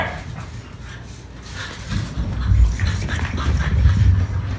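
Dogs, among them two poodles, a pug and a French bulldog, whine and yelp in an irregular run of close cries that grows louder and busier toward the end.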